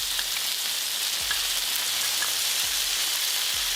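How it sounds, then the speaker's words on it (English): Onions and tomato sizzle loudly with seared beef in a pot for a Mexican-style beef and potato stew, a steady crackling fry with a few soft stirring knocks. "you're going to add your onions and your tomato"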